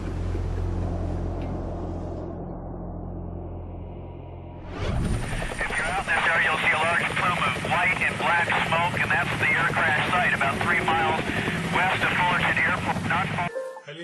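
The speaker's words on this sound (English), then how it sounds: "Helicopter news crews are quickly on the scene." News helicopters circling over the 1986 Cerritos mid-air collision crash scene in a residential area, heard as a steady loud rotor and engine roar beginning partway through after a quieter opening, with a voice talking over it.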